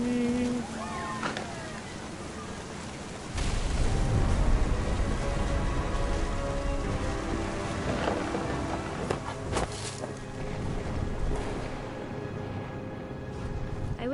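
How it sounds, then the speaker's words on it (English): Steady rain with deep rolling thunder in the video game What Remains of Edith Finch, a continuous wash of downpour with a heavy rumble swelling around the middle, heard under a voice speaking. "Thunder sounded much too close and full of angry power."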